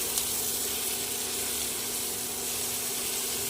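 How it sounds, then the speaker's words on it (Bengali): Garlic paste sizzles steadily in a pan with fried tomato and onion, a close, loud and continuous hiss without pauses. "এবারে দিয়ে দেব এক চামচ রসুন বাটা রসুন বাটাটা 30 সেকেন্ড নাড়িয়ে নিতে হবে"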